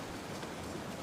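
Gentle rain falls steadily, a soft, even hiss of drops with no other sounds.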